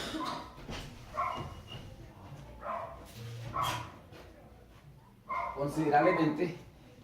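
Dogs bark repeatedly from a distance outside while a person keeps talking over them, teaching a class.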